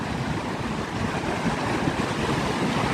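A New York City fountain rushes steadily at close range, a continuous broadband wash of falling water that stays even throughout with no voices.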